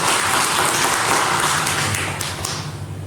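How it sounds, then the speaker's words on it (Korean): Dense, steady applause from a church congregation at a Sunday service, filling the room, sustained throughout at a strong level before tapering slightly at the end. "우리 하나님께 감사의 박수 드리겠습니다"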